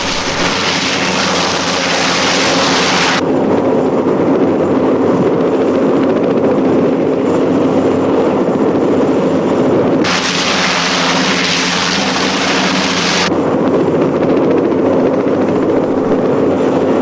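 Loud, continuous helicopter rotor noise close by from naval anti-submarine helicopters in 1966, a steady heavy drone that rises and falls in intensity with no talking.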